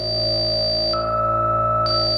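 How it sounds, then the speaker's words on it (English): A Stylophone CPM DS-2 analog drone synth holds a steady layered drone while a high pinging tone drops to a lower pitch and then jumps back, giving an eerie sonar-like effect, loud and alone. "Okay, we've got some sort of sonar U-boat action going on there."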